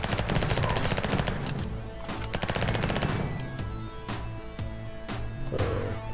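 Rapid, loud gunfire from a shotgun and other weapons in the arcade shooter OMFG: One Million Fatal Guns, with dense bursts of shots over steady game music and no talking.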